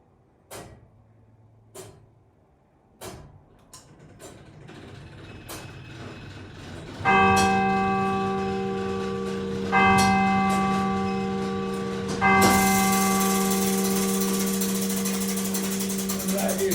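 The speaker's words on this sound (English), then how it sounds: "That is the winding mechanism for the striker." Church clock striker mechanism in a Grade 1 listed church, several sharp mechanical clunks followed by three loud ringing bell strikes, each leaving a long resonant hum that decays slowly, close and clear.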